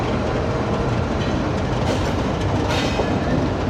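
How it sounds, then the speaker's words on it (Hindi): Pakistan Railways GU40 diesel locomotive 9031 rumbling past at a station, a loud, continuous roar of engine and rolling wheels with rhythmic clickety-clack over rail joints and brief brighter metallic swells. "लेकिन ये एक GU40 लोकोमोटिव है 9031"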